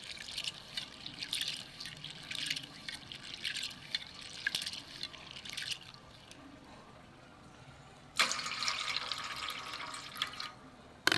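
Red lentils (masoor dal) rinsed in water, a steady splashing and dripping with louder bursts of swishing, close by and with no talking.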